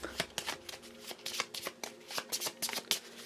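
A deck of cards is shuffled for a Marvel Champions card game, producing a quick series of close riffling bursts and snaps in an uneven rhythm, with no one speaking.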